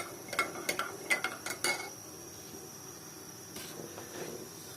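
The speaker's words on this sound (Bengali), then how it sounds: "এখানেও প্রায় এক চামচের মতো জেলাটিন পাউডার আছে তো ভালোভাবে গুলাতে হবে নাহলে দলা পেকে যাবে" A spoon stirs gelatin powder into liquid, making a quick run of light clinks and scrapes against the container early on, then fainter scattered taps over a quiet background.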